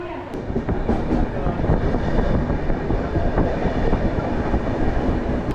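A moving train rumbles steadily from inside a carriage just after leaving Dadar, Mumbai, toward the Konkan in monsoon season, with rhythmic wheel clatter and a constant low roar throughout.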